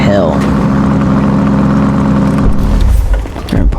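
A loud car engine in GTA 5 roleplay drones and idles close up, a steady heavy rumble that shifts and dips near the end.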